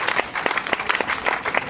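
Guests at a wedding celebration applaud, a brisk, moderately loud burst of hand clapping with distinct individual claps audible through the brief stretch.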